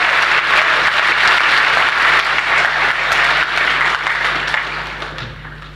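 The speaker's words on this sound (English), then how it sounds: "Round of applause." Loud, dense applause from an audience at a Brexit Party political rally in Wolverhampton, sustained clapping filling the hall and tapering off slightly at the end.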